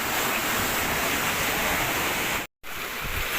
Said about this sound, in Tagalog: grabe yung maalon